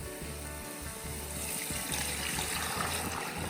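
Stock pours into a pan of saffron-seasoned baked meaty rice (arroz al horno), a close, continuous splashing trickle that stays steady and fairly loud throughout.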